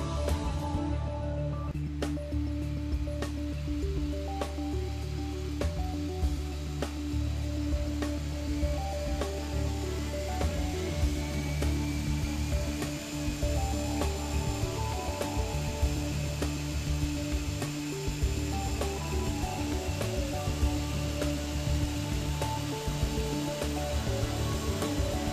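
Turbocharger rotor spinning up on a two-plane balancing machine: a continuous, dense mechanical drone with steady tonal hum, and a faint whine gradually rising in pitch as speed builds, no talking.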